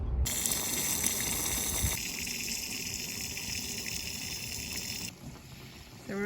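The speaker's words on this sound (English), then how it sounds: "and now we're just filling up with water" At a fuel dock, water gushes steadily into a boat's tank, a loud continuous rushing that thins after a couple of seconds and runs on before a brief dip near the end.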